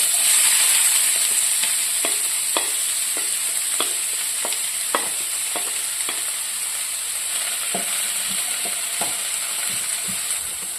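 Chopped onions and small shallots frying in hot oil for a chicken curry, a steady loud sizzle with regular scraping stirs throughout, close up and without any talking.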